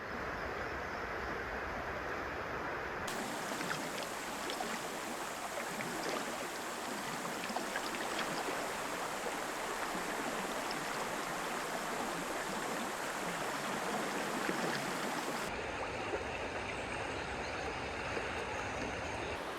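The Water of Leith, a river in Edinburgh, flowing below the bank with a steady, broadband rushing wash that holds at an even, moderate level for about twenty seconds, with no voices.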